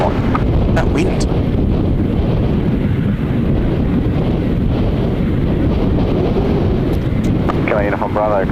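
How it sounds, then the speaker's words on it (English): Wind gusts batter the microphone at Gold Coast Airport, a loud, steady broadband rumble that never lets up and covers a few faint, brief background sounds. "Ooh, that wind."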